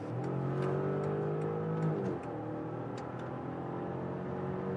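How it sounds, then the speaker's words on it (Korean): A Volkswagen Touareg SUV with a V6 TSI engine accelerates hard in sport mode from 70 km/h. The engine note climbs steadily, dips briefly at a gear change, then rises again, heard from inside the cabin with no talking. "스포츠 모드로 시속 70km에서 가속을 해볼게요."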